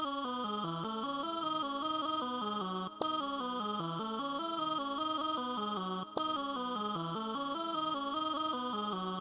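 A YVA lead synth plays alone in FL Studio, a bright, tonal plucky melody repeating a looping phrase in steady rhythm, with brief gaps at each loop restart.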